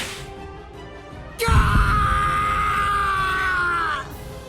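A man's prolonged, loud scream of pain from the video game Bleach: Rebirth of Souls, bursting in abruptly after a quieter stretch with a heavy impact and holding strained for about two and a half seconds before cutting off.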